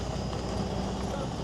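Carriage horses clip-clopping through the streets of Marrakesh, a steady dense patter of hooves mixed into busy outdoor street noise, with voices in the background throughout.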